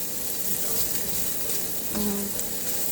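Marinated, already-fried pork for Filipino bistek sizzles in a pan as it is stirred, a steady crackling hiss with scraping from the utensil, close and continuous.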